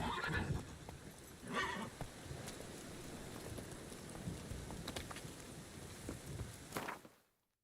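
Horse neighing in The Witcher 3, with a couple of whinnies early on over a steady rain-like wash and soft hoof clatter in the game's ambience.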